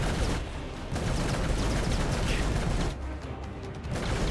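Continuous distant gunfire and combat noise in Final Fantasy XV Episode Ignis, a steady dense rumble of shots with brief dips, no voices.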